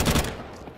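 Short burst of rifle fire in Counter-Strike 2 during a Major match on the Anubis map, a few rapid loud shots in the first third, then a decaying tail of reverb and faint game ambience.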